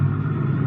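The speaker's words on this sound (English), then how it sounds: "I hear a car winding down the long driveway" A car rolls down a long winding driveway, a low steady engine rumble held evenly throughout a brief moment with no other sounds.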